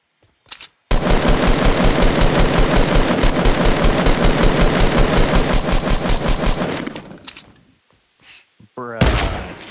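Rapid, loud gunfire from a video game rattles for about six seconds in a dense burst, then trails off, followed by a few shorter shots near the end.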